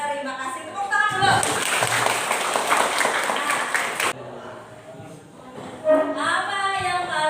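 Classroom applause during a lesson, a burst of many hands clapping for about three seconds that cuts off abruptly, with a teacher's voice speaking before and after.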